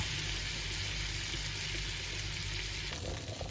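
Thick Danish-style patties fry in plenty of oil, giving a loud, continuous close-up sizzle that holds steady throughout, with no voices over it.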